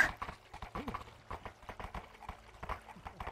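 Hooves clip-clop in a steady, quick rhythm at close range, a continuous patter of light knocks with no talking.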